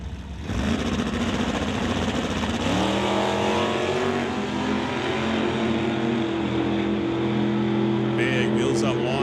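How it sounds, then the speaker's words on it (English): A Plymouth Barracuda and a Dodge Dart launch off the line at a drag strip, their engines roaring loud and rising steadily in pitch as they pull away, while an announcer talks over the noise. "Big wheels up launch for Jim Banky."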